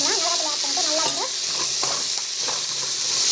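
Drumstick and eggplant pieces sauté in a pan, with loud steady sizzling and hissing throughout while a spoon stirs and scrapes in bursts. Brief tones from a voice or utensil are heard at the start.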